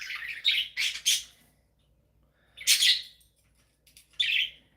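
Pet birds kept at a North Georgia home chirp in bright, close bursts: a cluster of tweets at first, then a louder squawk after a pause, and a final chirp.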